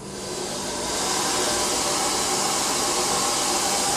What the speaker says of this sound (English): you're going to turn your hairdryer on